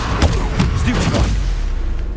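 Stupefy spell cast in the video game Hogwarts Legacy, a few close booming magical blasts and thuds in quick succession over a dense, continuous game soundscape, with some voice-like sound mixed in.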